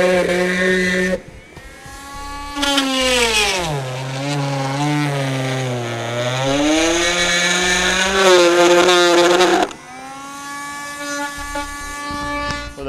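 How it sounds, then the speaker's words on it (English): Rotary tool cutting into the plastic front fascia of a 2013 Chevrolet for a Blue Ox base plate. Its high whine rises and falls in pitch as the load changes, loud and close, with brief pauses at the start and near the end. "Using our rotary tool, we'll go ahead and cut out the 2 sections we marked."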